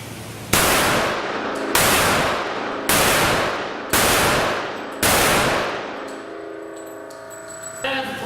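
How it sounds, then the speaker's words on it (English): Five loud, sharp pistol shots from a Rock Island Armory M1911-A1 with an all-steel frame, fired at an outdoor range at a steady pace about one second apart, each with a ringing tail, ending in a faint metallic clink. "We're going to head down range and get a 5-round accuracy group."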